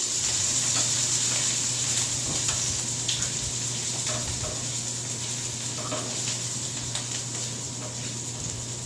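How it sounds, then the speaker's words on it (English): Steady sizzle of food being stirred around in hot oil in a pan, a continuous close hiss with faint scrapes, no voices. "Stirring it around in our oil here."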